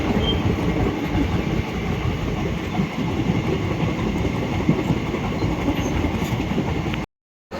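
A train rumbles steadily along the tracks with a continuous loud roar and faint rhythmic clatter, cutting out briefly near the end.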